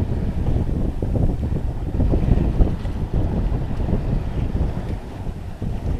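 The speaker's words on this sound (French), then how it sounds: "le vent vient de derrière moi" Steady wind roars across the microphone from behind a sailing boat at sea off Corsica, a constant rumbling buffet with gusty swells, over a faint wash of water and swell.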